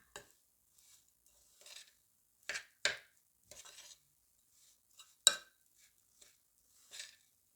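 Eggless oat cookie dough being mixed in a bowl, with scattered scraping and clinking strokes of a utensil against the bowl, quiet and irregular, no voices.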